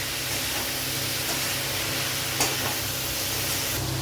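Chicken and egg khichuri ingredients being stirred and fried in a pan, giving a steady soft sizzle and hiss with faint scraping of stirring, close and continuous, with one brief clink partway through.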